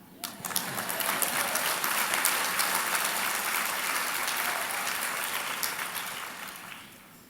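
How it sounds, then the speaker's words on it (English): A crowd at a prayer gathering claps, starting abruptly, swelling to a full, steady ovation, then tapering off gently toward the end. "You can clap."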